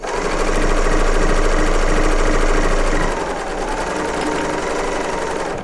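A serger sewing machine running a quilt seam, a loud close rapid mechanical whir and chatter that runs steadily for about three seconds, then continues slightly softer to the end, no talking.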